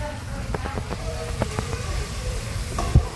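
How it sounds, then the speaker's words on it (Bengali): Marinated chicken coated with ginger, cumin, tomato, lime, salt, oil, onion and garlic pastes is stirred in a sizzling pan, a loud close hiss with repeated scraping strokes and a couple of bumps near the end. "আমি এসে শুধুমাত্র এই নাড়াচাড়াটাই করছি"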